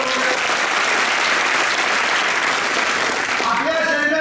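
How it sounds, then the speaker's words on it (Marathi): An audience breaks into loud, sustained applause for a child named Samarth, a dense wash of clapping hands that carries on throughout, with voices just audible beneath the cheering crowd. "समर्थसाठी जोरदार टाळ्या वाजवा."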